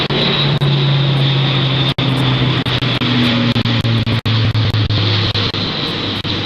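An aircraft in flight at the Farnborough 2014 airshow, with a loud, continuous engine roar and droning tones that shift in pitch, punctuated by a few sharp clicks, no talk.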